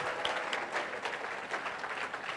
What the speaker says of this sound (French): Why don't you put your hand together for these angels?